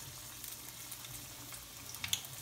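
Cheeseburger egg rolls fry in hot oil with a steady, soft crackling sizzle, with an occasional sharper pop, and no one speaking.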